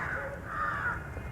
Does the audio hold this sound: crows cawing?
yes